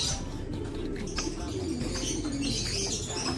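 Racing pigeons coo steadily at a moderate distance against a busy outdoor background, with soft chirps and a brief wing flutter mixed in.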